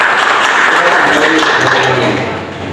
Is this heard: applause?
yes